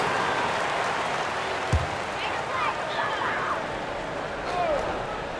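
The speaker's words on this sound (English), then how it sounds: "Let's give them a round of applause for Florida Gators dancers" Arena crowd at a PBA basketball semifinal game between Barangay Ginebra and San Miguel applauding during a timeout for dancers, a broad roar of clapping and cheering with scattered shouts and squeaks in a large hall.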